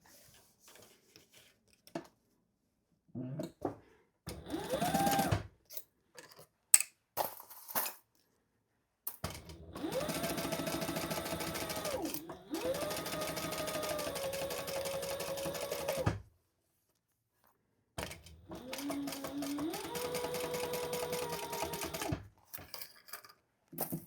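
A sewing machine top stitches around the zip of a zip-around travel wallet. It runs in two long, steady bursts with a short pause between them, preceded by scattered clicks and handling sounds, moderately quiet and close.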